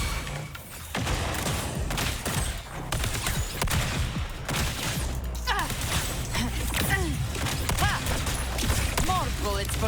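A character's rapid gunfire attack in Wuthering Waves, dense bursts of crackling shots and impacts over layered game effects and music, with a voice speaking faintly under the barrage.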